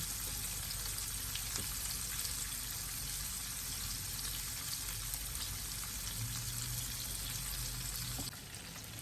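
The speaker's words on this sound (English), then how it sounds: "I've been cooking these, really frying these." Loud, continuous sizzling of cod fillets frying in a hot pan, a dense crackling hiss that stays constant, then softens slightly at the end.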